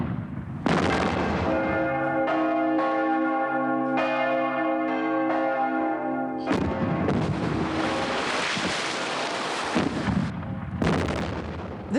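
A large church bell tolls with long ringing overtones, broken by loud booming blasts like artillery fire that overlap the bell, with no talk.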